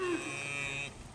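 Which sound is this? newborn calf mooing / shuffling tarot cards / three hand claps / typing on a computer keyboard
newborn calf mooing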